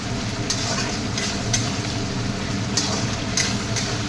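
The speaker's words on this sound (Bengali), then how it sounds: "এটা ভালো করে নাড়বো এটা দিয়ে।" A spoon stirs chilli chicken in a hot pan, with a steady sizzle and a few scraping strokes of the utensil.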